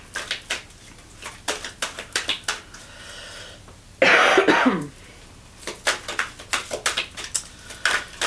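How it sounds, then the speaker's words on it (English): A person with a lingering two-week cough: a run of short, sharp taps or clicks, then a single loud, harsh cough burst midway, before the light tapping resumes, close and with no talking. "I've had this residual cough for 2 weeks now."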